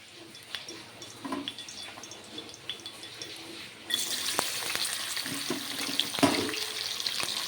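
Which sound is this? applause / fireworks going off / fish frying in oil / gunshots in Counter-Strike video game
fish frying in oil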